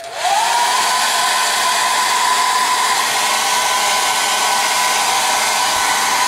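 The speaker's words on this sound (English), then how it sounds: "hair dryer." A hair dryer is switched on and runs steadily to dry a wet paint wash on a model, a loud, close, constant whir with a whining tone that rises briefly as it spins up.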